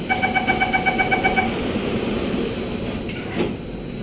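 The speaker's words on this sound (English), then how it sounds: "Doors are closing." An SMRT C830 metro train's sliding doors closing at Pasir Panjang station: a rapid series of electronic warning chimes, then a soft whoosh and thud as the doors shut, over the steady hum of the train.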